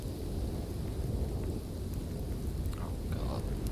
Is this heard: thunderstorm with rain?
yes